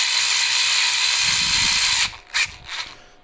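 A power drill drives screws into a nylon skid adaptor on an RR410, a steady high whir running for two seconds and then broken into short, separate bursts as the screws seat.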